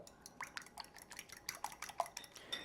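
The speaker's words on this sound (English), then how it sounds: "I've got 2 eggs, 2 large eggs, and I'm going to give those a little beat through" Two large eggs are beaten with a whisk or fork in a bowl, a quick, quiet run of light clinking taps against the bowl, close up.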